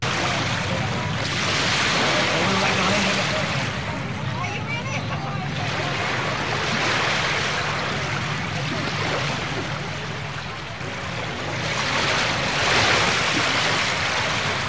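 Ocean waves washing steadily around a small floating grill out on the water, a continuous loud surf and splash wash with rising and falling swells, with some voice mixed in.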